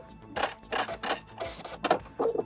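A domestic sewing machine runs a broken zigzag stitch on stretchy knit T-shirt fabric, giving short bursts of rapid mechanical clatter that start and stop about every half second, close and fairly loud.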